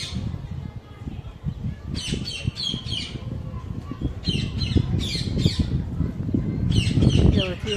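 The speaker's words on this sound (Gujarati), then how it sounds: "કેવા પોપટ બોલે ચકલા બોલે અવાજ આવે છે" Parrots and sparrows call outdoors under a cloudy sky, sending out repeated bursts of sharp squawks and chirps. Low background noise and murmuring run underneath, with the birds growing busier toward the end.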